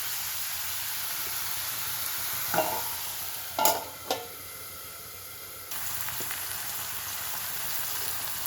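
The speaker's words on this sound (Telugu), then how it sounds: "సాల్ట్ వేసుకొని మూత పెట్టుకుంటే ఉల్లిపాయ ముక్కలు తొందరగా వేగుతాయి" Onion pieces fry with salt in a pan, giving a close, constant sizzle with a few sharp stirring knocks, then a quieter stretch before the frying hiss returns.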